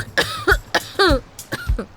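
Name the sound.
woman coughing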